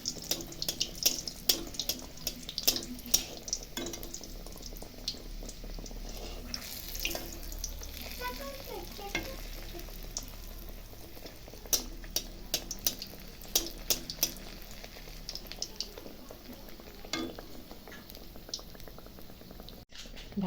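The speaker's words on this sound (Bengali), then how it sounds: "এখন দেখো ঢাকাই পরোটাটা ভেজে নিচ্ছি" Dhakai paratha frying in white oil in a pan, giving a soft, steady crackling sizzle with scattered sharp pops throughout, fairly quiet and close, with no talking.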